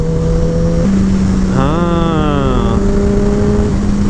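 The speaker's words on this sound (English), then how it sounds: "let's try downshifting, quick shifting" A Kawasaki Ninja ZX-10R engine revs on a canyon run, its pitch climbing through quick shifts with stepped rising tones, heard close over steady wind and road noise.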